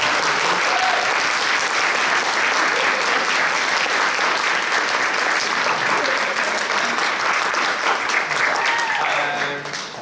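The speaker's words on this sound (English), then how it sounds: "Stand up so we can give you a round of applause." An audience at a rabbi's farewell tribute applauds in a sustained, dense round of clapping that carries evenly for several seconds before tapering off at the end.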